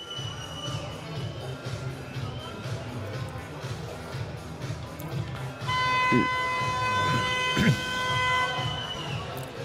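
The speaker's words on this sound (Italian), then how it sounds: "Mentre suona la prima sirena, quella per i portieri." At an Italian Serie A1 roller hockey match, the arena siren for the goalkeepers sounds partway through, a steady loud horn-like tone over crowd murmur, with a commentator talking throughout.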